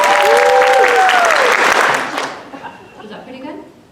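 Audience at a variety show claps and cheers on cue, a loud burst of applause lasting about two seconds before it quickly dies away, leaving scattered chatter and someone speaking afterward.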